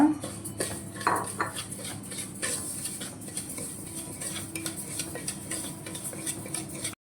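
Wheat rava is dry-roasted in a vessel, a spoon scraping and clinking against the metal in a brisk, continuous rhythm, close and fairly loud, then cutting off abruptly.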